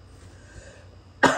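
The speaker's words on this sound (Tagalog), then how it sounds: "Inuubo kasi ako, tagal na wala." One sudden, harsh cough bursts out near the end after a quiet pause, loud and close to the microphone.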